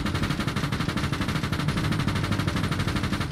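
Rapid bursts of airsoft gunfire during a milsim game, several guns rattling off in quick succession at steady, fairly loud level with no talk.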